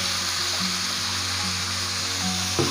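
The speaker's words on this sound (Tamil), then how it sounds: "நம்ம இந்த வாஷ் பண்ணி வச்சுருக்க சிக்கனை போட்டுக்குவோம்." Washed bone-in chicken pieces sizzle and fry steadily in a pan for spicy mint chicken, a continuous close hiss with faint stirring clinks, no talking.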